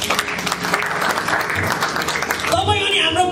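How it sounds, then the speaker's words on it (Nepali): Church congregation clapping during a prayer service, the applause swelling briefly under and after a preacher's speech. "बुझ्नेले ताली बजाइदिनुहोस् न।"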